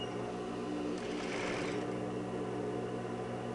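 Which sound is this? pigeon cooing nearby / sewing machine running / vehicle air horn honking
sewing machine running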